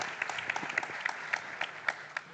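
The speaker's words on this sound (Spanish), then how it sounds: "no voy a obstaculizar un aplauso" Light, sparse applause from a small audience at a science and belief discussion event, scattered claps sounding fairly faint and thin over a couple of seconds.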